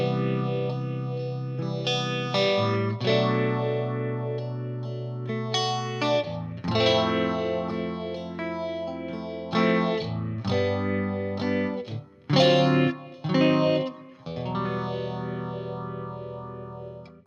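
Electric guitar drenched in distortion, chorus and echo plays the chords of a song in sustained, swelling strums with a few brief choppy stops, full and close, with no talking.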